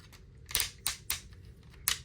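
Sharp, crisp clicks sound a few times in quick irregular succession, close and fairly quiet, like small plastic joints ratcheting: the tight ratchet joints of a transforming robot toy figure, a Magic Square MS-03 Heavy Gunner.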